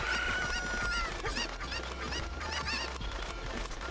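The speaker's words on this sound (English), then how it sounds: "Run away, little chicken." Chickens cluck and squawk in a Zelda Ocarina of Time randomizer game, with repeated rising bird calls over a steady game-music bed, loud and continuous with no talking.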